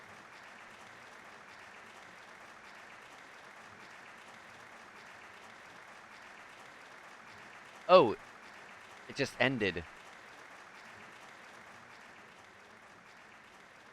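In the video game Trails of Cold Steel, a crowd's applause comes in brief bursts after long near-silence, with a voice speaking just before it.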